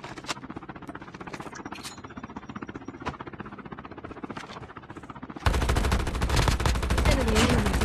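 Gunfire from the battle royale mode of COD Mobile, a mobile shooter game. Scattered rapid shots come first, then a dense, loud sustained burst of automatic fire takes over for the last couple of seconds, with no talking.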